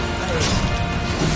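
A Bombarda spell explosion bursts in Hogwarts Legacy, a dense crashing blast that rolls on for over a second amid clashing combat noise, loud and close throughout.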